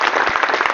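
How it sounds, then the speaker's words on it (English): A crowd at a live-streamed special event applauds honored guests, surviving members of the Women's Army Corps, heard as a brief dense burst of many hands clapping. "Let's start off again by giving them a round of applause."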